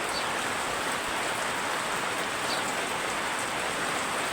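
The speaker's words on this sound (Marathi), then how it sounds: "आत्ता एवढ्या जोराचा पाऊस उडायला पाहू शकता तुम्ही" Heavy rain falls steadily and loudly, a dense, unbroken downpour hiss drumming on surfaces close by with no voices.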